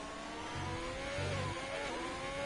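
A race car engine in a driving game pulls under throttle, a steady mid-pitched drone with a slight rise in pitch and a couple of low thuds underneath.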